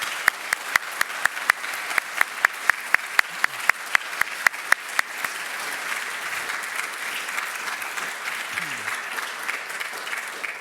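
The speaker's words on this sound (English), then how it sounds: "let's give our 2016 Alumni Award winners a round of applause" Audience applause for 2016 Alumni Award winners at an alumni celebration, opening with a few sharp, evenly spaced claps over a broad wash of clapping that swells into steady, sustained applause.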